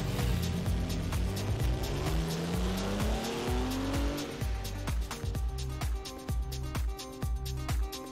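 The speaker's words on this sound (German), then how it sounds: "Das heißt, wir rennen zum Auto, starten den Motor und ab geht's?" Classic car starting and driving off in a Le Mans-style start near Cascais, with a rising engine note, squealing tyres, then rapid rhythmic engine pulses as it pulls away, loud and close.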